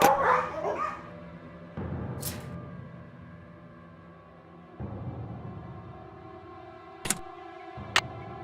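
Vicious dogs in the video game Nancy Drew: Ghost Dogs of Moon Lake bark and snarl in a few loud, separate bursts with gaps between them, followed by sharp short yaps near the end.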